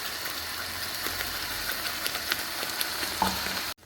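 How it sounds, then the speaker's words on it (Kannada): Ground masala paste hitting hot fish curry in a pan, giving a steady, close sizzle with crackling pops throughout that cuts off abruptly at the end. "ರುಬ್ಬಿಟ್ಟ ಮಸಾಲೆಯನ್ನು ಅದಕ್ಕೆ ಆ್ಯಡ್ ಮಾಡ್ತಾಯಿದ್ದೀನಿ ನಾನು."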